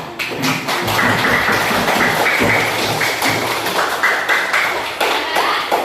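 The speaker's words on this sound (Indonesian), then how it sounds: "Sekarang kita tepuk tangan untuk kita semua" Schoolchildren clap together in a classroom after their presentations, a loud, uneven burst of hand claps with a few sharper taps and murmuring voices underneath.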